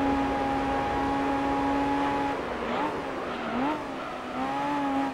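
A race car in Gran Turismo 3 accelerating at full throttle, a loud sustained engine whine that holds steady, then dips and climbs again through gear changes, close and continuous.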